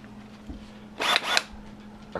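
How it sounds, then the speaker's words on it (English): A cordless drill whirs in two short bursts of about a quarter second each, close and loud, after a quiet stretch with a low steady hum in the background. "a cordless drill."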